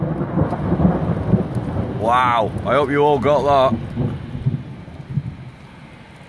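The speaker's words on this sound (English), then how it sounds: "Whoa, lightning. Listen for thunder." Thunder rolling through a thunderstorm with rain in Derby, heard as a broad low rumble beneath steady rain hiss, with a voice speaking over the middle of the clip.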